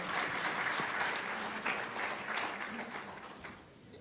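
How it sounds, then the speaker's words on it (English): Audience applause at a speaker meeting, a steady broad wash of many hands clapping throughout, moderately loud and fading slightly toward the end, with no talking over it. "One more round of applause,"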